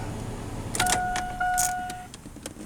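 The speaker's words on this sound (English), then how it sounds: "We'll turn the vehicle off." A car is switched off during a diagnostic check, with a brief clunk and a sustained warning chime or beeper tone over a low fading hum, plus small key and mechanical clicks nearby.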